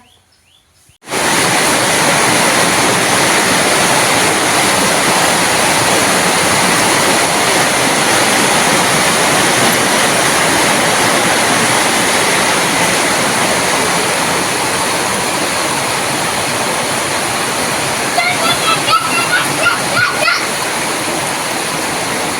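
Heavy rain roars steadily and loudly on a metal roof sheet, a dense continuous drumming that starts abruptly and holds for the whole stretch.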